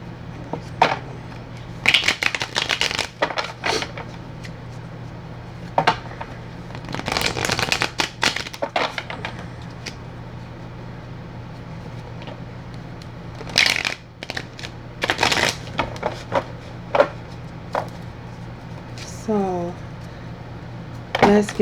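A deck of tarot cards being shuffled by hand in bursts of riffling and crisp slapping, with quiet gaps between, over a constant low hum and occasional talking.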